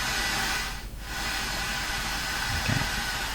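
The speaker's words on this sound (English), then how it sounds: "The FM hiss is a very handy way to test speakers." FM radio inter-station hiss plays through Advent analog wireless speakers, a steady broadband rush that dips briefly near the start, then holds even and continuous with a faint low bump late on, no voices.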